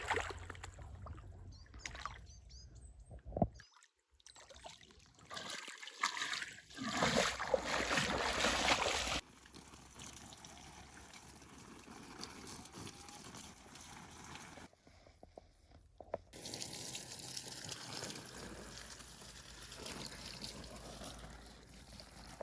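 Water splashing and trickling outdoors while a vegetable garden is watered, with intermittent bursts of spray and pauses, fairly close against light wind.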